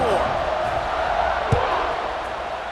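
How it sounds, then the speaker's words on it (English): A football stadium crowd buzzes during a Nebraska versus Miami game, a steady dense roar of many voices with one brief thump partway through. "this crowd is buzzing after that last score."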